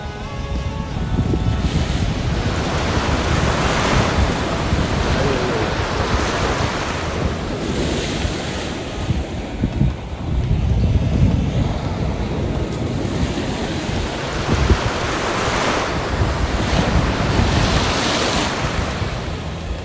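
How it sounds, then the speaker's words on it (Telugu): Sea waves crash and wash in steadily at Cyprus City beach, a loud surging roar with heavy wind buffeting the microphone throughout. "ఇగో అలలు చూడండి ఎలా వస్తున్నాయో"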